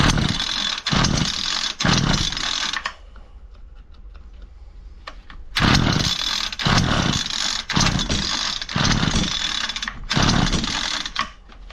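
A Homelite 26cc weed eater engine fires up in loud bursts that run briefly and cut out, with a quieter gap of small ticks and clicks between the tries, close by.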